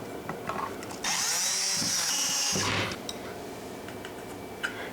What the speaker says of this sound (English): I'm lining up the base with the holes up here and just re-screwing them in